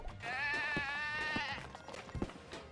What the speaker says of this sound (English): Oh my god, sheep.